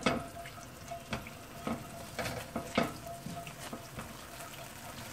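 Ginger slices fry in a pan, a steady soft sizzle broken by repeated scraping stirs and light clanks, fairly close.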